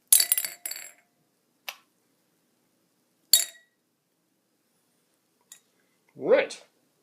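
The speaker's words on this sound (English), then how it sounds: "I'm going to drop these carefully here into this glass." Stainless steel cubes drop one after another into a glass of wine, giving several sharp bright clinks spaced apart with silence between, followed by a short voiced sound near the end.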